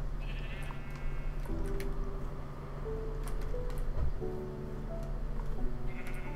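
Minecraft sheep bleat again and again in the video game, the calls set over steady in-game background tones with no voices.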